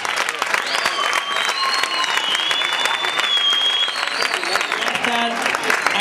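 Loud audience applause at a flamenco festival in Granada welcoming a singer to the stage, dense clapping throughout with a sustained tone and voices mixed in.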